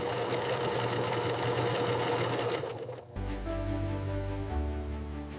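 Industrial sewing machine stitching quilts in a factory, a loud steady motor hum running fast, then a brief pause and a lower, heavier run of stitching, close and continuous.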